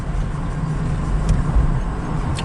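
A 2008 Chevy Impala with a wheel bearing fault idles in a yard, a steady, loud, close engine rumble with a low hum and no pauses.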